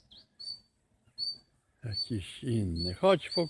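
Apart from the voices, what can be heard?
bird singing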